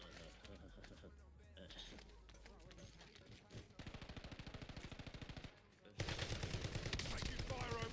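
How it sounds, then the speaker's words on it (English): Automatic gunfire in a battle royale shooter video game, rapid bursts rattling in steady rhythm mid-clip, then a louder, denser volley near the end, with game sounds and voices mixed in. "Taking fire over here."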